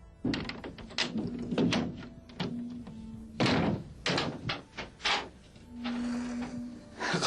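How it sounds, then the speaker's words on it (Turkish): Door being locked indoors, heard as a series of sharp thunks, clicks and knocks spread across several seconds, with a brief hum between impacts. "Kapıyı kilitledi ya."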